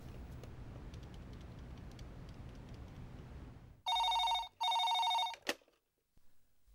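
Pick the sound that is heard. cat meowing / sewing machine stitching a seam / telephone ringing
telephone ringing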